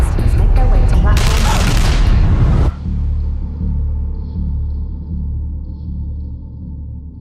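A burst of loud, close gunfire crackles for roughly two and a half seconds in an exchange of shots, then gives way to a low lingering rumble with faint sounds over it.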